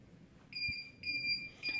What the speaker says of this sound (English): when time's up, it will alarm 2 times